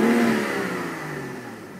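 A BMW F30 335i engine revs up and then winds down over almost two seconds, a loud, close, smooth mid-pitched hum with no speech over it.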